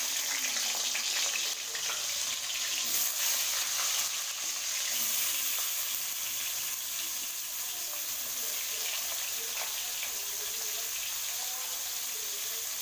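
Potatoes frying in a pan of oil for a prawn and parwal curry, a continuous bright sizzle with soft stirring, fairly close and steady throughout.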